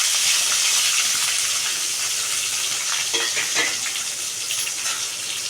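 Steady, busy sizzling of onions and green chillies frying in hot oil, with occasional stirring clatter, continuous and fairly loud throughout.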